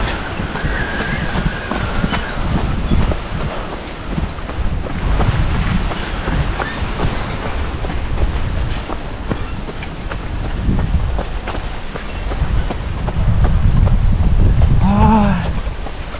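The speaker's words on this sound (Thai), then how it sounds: "ลมเพิ่งพัด" Wind gusting on a mountain trail, buffeting the microphone in a constant rough roar that swells louder toward the end, with a brief voice cutting through.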